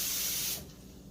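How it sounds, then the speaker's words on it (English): Water pouring into a cup, a brief bright hissing splash that cuts off abruptly after about half a second, leaving only quiet room sound. "Now if I take my cup here and I fill it up with some water"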